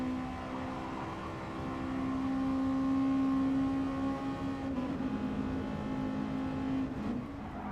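A race car in Gran Turismo Sport holds a steady engine whine that climbs and then drops as it downshifts to fourth, a continuous droning tone with no talking.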